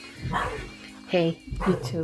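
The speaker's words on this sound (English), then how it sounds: "if you hear the dog in the background" Dogs, including a young pup, barking and yipping indoors in a leatherworking workspace, a few sharp barks and whimpers close by, mixed with a voice talking over them.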